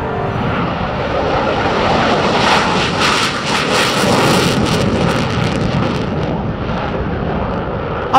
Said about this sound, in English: we took the single-engine aircraft through a series of maneuvers which involved barrel roll, looping, executing a split S and a vertical climb